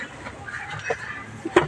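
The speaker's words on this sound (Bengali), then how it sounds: "এই যে আমার মুরগিগুলো মোটামুটি ডিম পাড়ার উপযুক্ত হয়েছে" Hens nearly old enough to lay eggs cluck a few times on a rainy cattle and poultry farm. The short, close clucks rise over a quiet background of soft farmyard noise.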